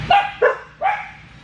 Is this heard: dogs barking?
yes